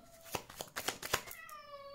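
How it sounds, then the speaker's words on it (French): A domestic cat grumbles with a short, rising, drawn-out meow near the end, after a run of crisp card-shuffling clicks, close and fairly quiet indoors. "J'ai mon chat qui râle, je sais pas pourquoi."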